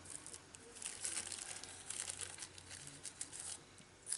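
Close, crisp crinkling and snipping as a shape is cut out of material for butterfly jewellery, a steady run of small rustles with no voice.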